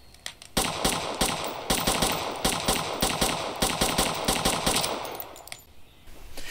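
Gunfire from weapons in the shooter game Road to Vostok, a rapid run of loud, closely spaced shots in bursts that stops abruptly, with no talk.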